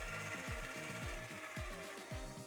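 A mixing machine rubbing butter into a dry dough mix for chocolate cinnamon rolls, giving a steady motor drone with a regular, repeating thumping churn, loud and continuous, with no talk.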